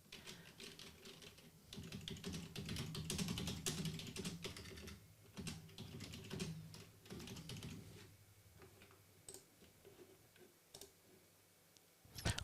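Text typed on a computer keyboard into a radio station website form, a rapid run of light, close key clicks that thins into scattered taps toward the end, with no talk.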